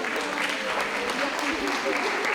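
Applause from an audience at a beauty pageant, steady and dense, with a French-speaking voice over the clapping.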